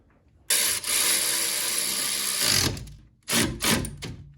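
A ratchet tightens suspension nuts on a 2012 Mazda 2, giving one long steady burst of clicking, then a pause and two shorter bursts, close and alone.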